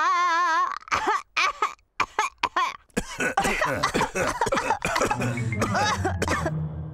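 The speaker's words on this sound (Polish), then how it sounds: "wszyscy dorośli zarazili się kaszlem Pedra" Adult cartoon characters in a Polish-dubbed Peppa Pig episode cough repeatedly in a string of sharp, loud bursts and throat clearing, preceded by a brief wavering tone.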